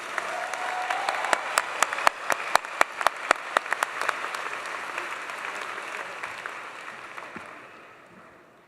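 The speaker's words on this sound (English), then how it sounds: "Let's give them all a final round of applause." Audience applause for MBA graduates at a 2024 business school commencement, a dense, loud clapping crowd with sharp individual claps punctuating it early, gradually thinning and fading out toward the end.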